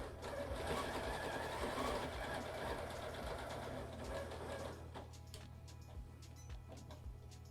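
A Janome 9480 sewing machine with a stitch regulator stitching a quilt along a ruler, a fast steady mechanical hum and rapid ticking that stops partway, leaving quieter clicks.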